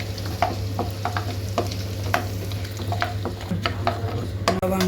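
Whole cinnamon, cloves, cardamom and cumin sizzle in hot oil for tempering, a close crackling fry with sharp pops and spoon clinks over a low steady hum, no talking.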